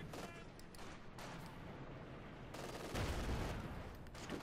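Sustained battle din from Company of Heroes 2, with dense rifle and machine-gun fire crackling over rumbling explosions that swell louder near the end, no talk.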